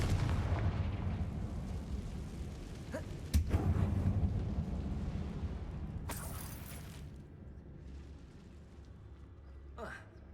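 A Confringo blasting spell explodes in the video game Hogwarts Legacy, inside a closed mine resembling a tomb. A sharp, heavy blast hits over low rumbling game ambience, followed by trailing bursts.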